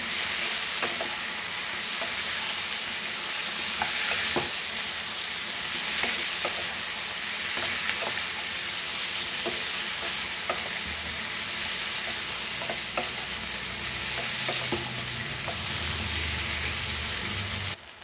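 Tomatoes fry in oil for a Goan prawn masala, giving a loud, continuous sizzle and hiss throughout, with occasional scraping taps of a spoon stirring the pan.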